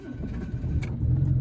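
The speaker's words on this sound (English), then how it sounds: "Fires right up. No issues, no problems. Cold start, no smoke" A 1983 Jaguar XJ6 Vanden Plas engine cold-starts from inside the car, a low rumbling catch that swells into a steady, close idle over about a second and a half.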